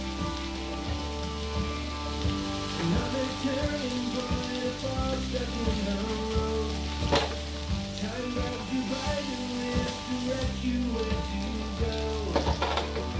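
Beef burgers sizzle and crackle steadily on a gas BBQ grill, a dense, rain-like frying hiss close by, joined by a few sharper pops and scrapes and a faint hum underneath.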